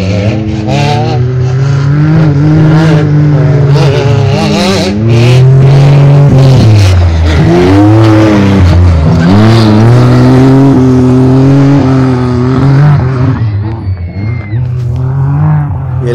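Trophy trucks race past at the Baja 400 off-road race near mile 345 at El Mezcal, their loud engines revving and rising and falling in pitch over a continuous roar, with people talking.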